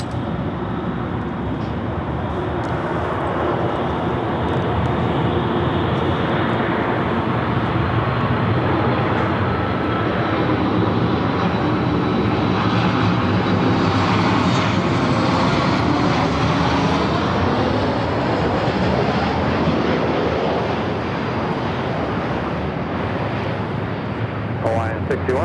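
A Southwest Airlines Boeing 737 MAX 8 arrives at LAX, its engines making a broad, sustained roar that swells and shifts as it passes, with people talking over it throughout.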